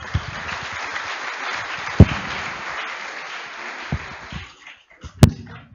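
Audience applause at the 90th anniversary inaugural service of Accra Academy, a sustained crowd clapping that fades out, with a few louder thumps and knocks scattered through.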